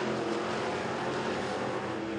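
Race cars in a heat race at Crossville Speedway, a continuous loud engine roar droning steadily from the track without pause.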